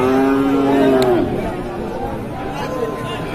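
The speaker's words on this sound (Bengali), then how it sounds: "মুন্ডি জাতের গরু।" A Mundi breed cow lets out one loud, close, drawn-out moo amid the chatter and hubbub of a busy livestock market.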